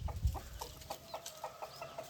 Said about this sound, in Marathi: कोंबड्यांची झाली सुरुवात आता टांबाटे खायचं काम